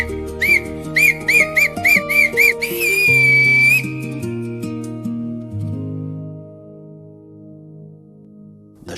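Person whistling close and loud, first a run of short repeated chirping blasts and then one long sustained whistle, while a tune plays underneath and fades out.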